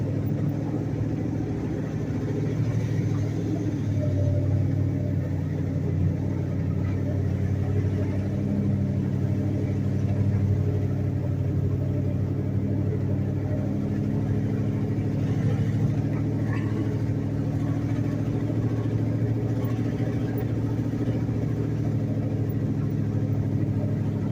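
A 1968 Ford Thunderbird four-door with suicide doors and a 429 V8 drives slowly, its engine holding a steady low rumble at close range for the whole stretch, with faint tire and road noise and no talking.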